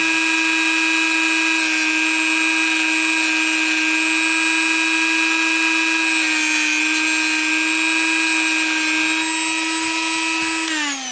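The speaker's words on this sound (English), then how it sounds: "And that's about all I want to do with that Dremel." A Dremel rotary tool grinds a metal lock security pin, giving a steady, loud high-pitched whine that holds constant for about eleven seconds and sags slightly in pitch just before it stops.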